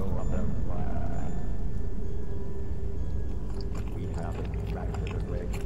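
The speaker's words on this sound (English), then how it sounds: "Y'all hear him chewing?" Close, wet chewing of pizza by a character in the horror video game Fears to Fathom, loud and steady over a low background rumble, with a faint voice in the background.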